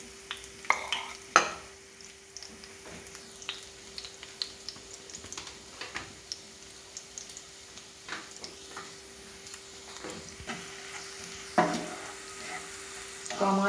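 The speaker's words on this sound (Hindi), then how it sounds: "कम आँच रखी हूँ मैंने और ये लहसुन भूनने लगी।" Garlic fries in oil in a pan on low heat, giving a soft, steady sizzle close by. Scattered light ticks and clicks run through the sizzle, and there is no talking.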